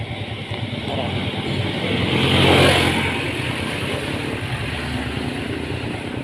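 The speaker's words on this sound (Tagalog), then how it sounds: "Ayan guys, ang lalaking truck na yun. Ayan, ang ingay." A large truck passes in slow traffic on a road toward Rizal, its heavy engine drone swelling as it draws near and fading away, loud, with someone talking over it.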